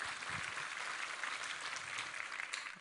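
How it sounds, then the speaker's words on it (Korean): Church congregation clapping to give thanks and glory to God during Sunday worship, a faint, even wash of many hands heard from across the room. "우리 하나님께 감사와 영광의 박수를 올려드리겠습니다"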